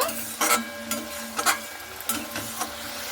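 Spice paste being stirred and fried dry in a pan for a fish and ridge gourd dish, with soft scraping strokes and a quiet sizzle recurring every half second or so, close and fairly faint.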